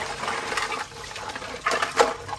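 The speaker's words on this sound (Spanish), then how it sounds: "voy a echarle agua a todos juntos para que vayan soltando su" Water poured over a batch of dirty toys to wash them, a steady splashing, rushing stream with louder gushes toward the end, close and alone.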